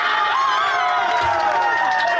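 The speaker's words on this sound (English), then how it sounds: "Listen to the crowd." A crowd aboard an amusement park ride shouts and cheers together in a continuous loud wash of voices, with a few higher yells rising above it.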